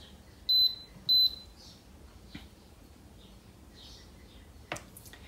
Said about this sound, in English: it's going to beep to let us know that it's accepted our commands